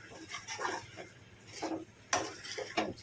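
A spoon stirs arbi (taro root) curry in a pan, giving quiet, intermittent scrapes and clinks against the metal, spaced unevenly and fairly faint.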